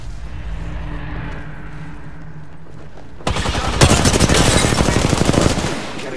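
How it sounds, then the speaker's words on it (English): Rapid automatic gunfire in a video game squad skirmish, a low rumbling lull that suddenly erupts into loud, sustained machine-gun bursts lasting several seconds. "Getting shot at."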